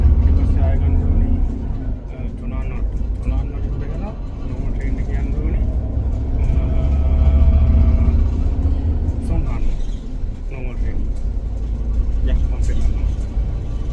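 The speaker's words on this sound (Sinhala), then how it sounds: "බස් එකෙන් දැන් අපි චුන්වෝක් එකට යනවා" A moving bus gives a constant low rumble of engine and road noise as a passenger rides toward Tsuen Wan. Voices and other sounds rise and fall over the hum.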